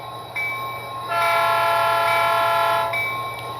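A model train's bell sounds as a loud sustained bell-like horn tone with steady harmonic pitches, rising and holding for a couple of seconds, then fading back under a constant low hum.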